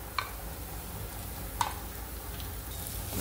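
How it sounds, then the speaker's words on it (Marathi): Freshly grated coconut roasting in ghee gives a faint, even sizzle with a couple of small sharp ticks. It is quiet and steady with no voices. "त्यानंतर त्या तुपामध्ये आपल्याला जे खोबरं आपण किसून घेतलं होतं ते घालायचं आहे सगळं।"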